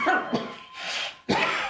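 A few harsh coughs, close and loud, in short bursts separated by brief pauses.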